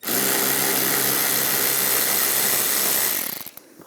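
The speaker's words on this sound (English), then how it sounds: "Underneath, there's one more screw. Same 7mm socket." A powered driver with a 7mm socket backs a screw out from underneath the dash of a 2010-2017 Chevrolet Equinox during heater core replacement, whirring loudly and steadily for about three seconds before winding down.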